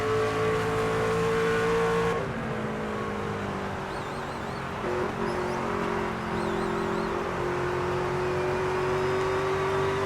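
A NASCAR race car in the video game NASCAR 25 accelerates with a steady, loud engine drone whose pitch climbs and shifts after a gear change.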